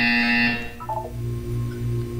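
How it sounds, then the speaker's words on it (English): A loud, harsh electronic buzzer from the Portal 2 video game blares for about half a second, then a lower, softer tonal hum continues with a few brief electronic blips. "When you hear the buzzer, look up at the ceiling."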